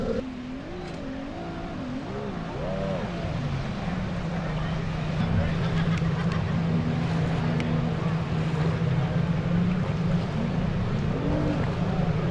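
A loud speedboat racing engine roars and drones steadily, rising in pitch at the start of a heat, with a voice talking over it early on.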